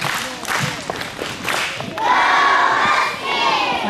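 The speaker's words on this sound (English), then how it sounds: "So, Husky cheer for Miss Henderson's class." A school assembly gives a Husky cheer for a class at a morning meeting, with a loud crowd of children shouting, clapping and stamping together, followed by a sustained chorus of young voices.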